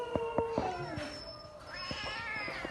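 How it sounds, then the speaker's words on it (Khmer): A cat at an animal shelter meows several times in close, loud cries, with short repeated calls at first and then a longer drawn-out wail, and shuffling noises behind it. "ឆ្មា"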